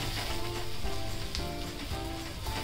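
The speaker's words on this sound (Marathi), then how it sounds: "हे टोमॅटो पण आहे ना 1 मिनिट परतून घेऊया चांगले" Tomatoes sautéing in a pan for a spicy papad and onion chutney, a steady dense sizzle and crackle like light rain, close and even throughout with no talking.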